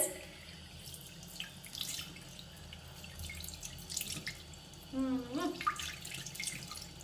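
Tap water runs faintly into a sink as something is rinsed off indoors, a soft continuous trickle with a brief louder splash of flow near the end.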